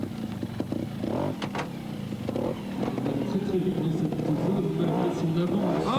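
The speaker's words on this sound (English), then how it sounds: "Juan Pons, the Spaniard, on the gas bike." Off-road gas motorcycles racing in a mid-1990s event at Les Vins, engines revving and droning steadily in the background under a commentator's continuous talk.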